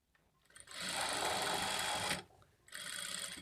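A sewing machine stitches through four fabric layers of a long frock, running loud and close in a steady whirring burst, pausing briefly, then starting up again.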